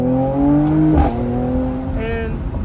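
AMG C43 engine revving hard through paddle-shift gears, loud and close, with rising harmonic pitch sweeps broken by a sharp shift near the midpoint and another climb after.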